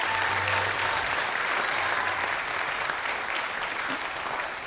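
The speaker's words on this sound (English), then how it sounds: "How about another round of applause?" Steady, full audience applause at a high school band fall concert, dense clapping throughout from a large crowd, with no words spoken over it.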